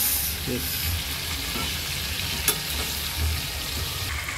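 A whole fish frying in a large, deep pot, giving a steady close sizzle and crackle of hot oil with a few brief clatters, and no talking.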